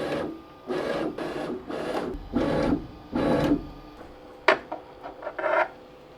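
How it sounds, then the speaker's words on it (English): Bambu Lab H2-series 3D printer bed driven up and down on greased lead screws, giving a run of roughly six even motor whirs with short pauses between them, close and fairly loud, then a few sharper clicks and knocks at the end. "Simply clamp the lead screw and move the bed up and down to distribute the grease or wipe off the debris."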